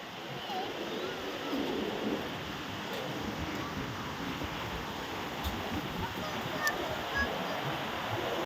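A sea wave breaks and surges up the shore at Adri beach, a constant hissing wash of surf at moderate distance with wind noise mixed in.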